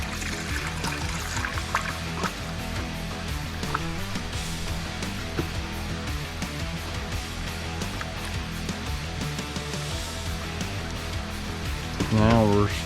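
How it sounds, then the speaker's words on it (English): Coolant trickles steadily into the radiator of an 1987-1992 Ford, a soft continuous pour with light gurgling, close up and fairly quiet, ending in a brief louder burble. "Let's keep on adding coolant."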